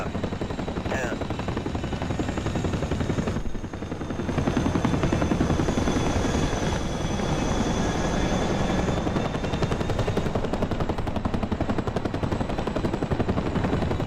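A Chinook helicopter in the DCS flight simulator gives off a continuous loud rotor thrum with rapid blade chop, briefly louder partway through, and faint radio or cockpit tones over it.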